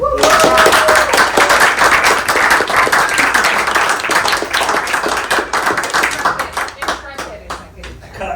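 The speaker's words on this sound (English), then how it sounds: "A round of applause." An audience claps and applauds loudly and steadily, the clapping gradually thinning out toward the end.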